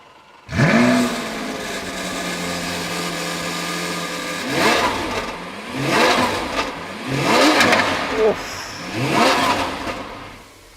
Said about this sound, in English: now let's have a listen to this Aventador SV. Go on, start it.